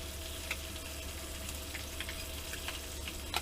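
Country ham curling up as it fries in a pan, giving a steady, even sizzle with a few faint crackles and pops throughout, moderately quiet and close, with no voices.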